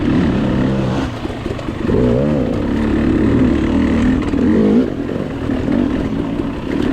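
KTM 300 two-stroke dirt bike ridden through a tight hare scramble section, its engine a loud, continuous buzzing drone that swells and dips with the throttle, heard close from the rider's position throughout.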